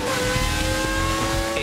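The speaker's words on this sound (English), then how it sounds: "It's the distinctive sound of components moving at speeds that would destroy an ordinary engine" A 2.4-litre Formula 1 engine runs at very high revs, a steady, dense, piercing tonal roar held loud and close throughout with no voices.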